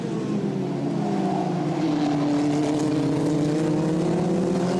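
Formula Regional European Championship single-seaters race at Misano, engines whining in high, rising and falling pitch as cars pass, steady and moderately loud with no voices.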